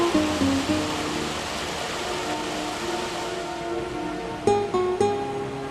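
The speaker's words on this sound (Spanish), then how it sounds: "Este tubo de desagüe, de donde nunca deja de brotar agua verdosa y contaminada" Greenish, contaminated water pours nonstop from a hospital drainage pipe, a steady rushing splash close by with constant loudness, joined by a few tonal accents near the end and no voices.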